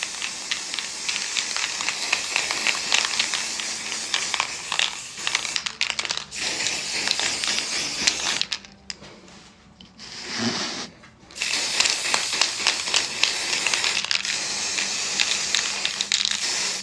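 Black spray paint applied from an aerosol can: loud, close, broadband hissing bursts in long sustained passes, broken by brief pauses and one longer gap before the spraying resumes.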